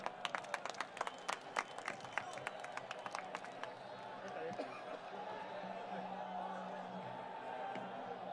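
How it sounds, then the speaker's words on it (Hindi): Applause and clapping from a crowd at an outdoor public political meeting in Surat, sharp claps at first settling into a steady roar of clapping and crowd noise that continues throughout. "जोरदार तालियों के साथ स्वागत करें।"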